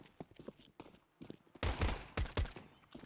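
Gunfire from a tactical shooter video game match: two or three loud, sharp bursts of shots in the second half, following quieter clatter and faint footsteps-like ticks.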